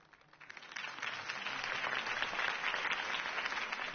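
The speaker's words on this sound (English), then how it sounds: "If only Mr. Wayne, my campaign's largest backer, could have heard that applause" A Batman video game crowd breaks into applause after a campaign speech: dense, steady clapping rises within the first half second and holds at a moderate level throughout, with no talk over it.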